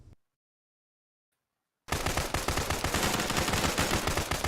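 Video game gunfire breaks out after a short silence as loud, rapid automatic bursts that run on continuously at close range.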